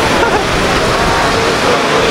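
Water rushing steadily over the Salto del Laja falls in Chile, running lower than it once did, a broad continuous roar heard close and loud with no breaks.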